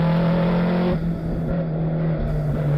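Loud, steady engine roar of a touring race car competing in the 2011 United States Touring Car Championship, heard from onboard with a sustained drone and a brief dip in pitch near the middle, no talking.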